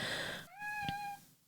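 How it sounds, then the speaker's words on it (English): A domestic cat gives a single clear, drawn-out meow lasting under a second, close and fairly quiet, following a burst of background noise. "That is my cat, Londo"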